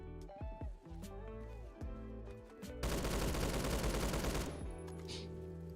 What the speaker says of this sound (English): What gun am I using right now? The HK417 battle rifle.